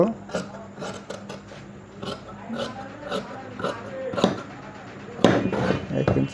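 Cloth is cut by hand for a kameez with a one-inch seam margin, giving a run of close, uneven crunching snips and rubbing bursts with short pauses between cuts.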